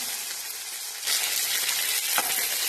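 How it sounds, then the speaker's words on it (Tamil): Mustard seeds and drumstick pieces hitting hot oil in a kadai, a loud, dense crackling sizzle that holds steady throughout and briefly swells as more goes in. "ஒரு கடாயில் எண்ணெய் ஊற்றிங்க, கடுகு சேர்த்துக்குங்க, ஒரு முருங்கைக்காய் சேர்த்துக்குங்க"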